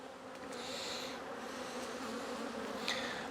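Honey bees from an overwintered nuc colony drone steadily at an open hive, a close, continuous buzz with individual bees passing nearer now and then.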